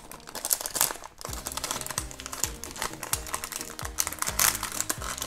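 A surprise toy package of Disney Cars toys being opened: steady close crinkling and tearing of a plastic wrapper throughout, busy and fairly loud, with sharp rustling bursts.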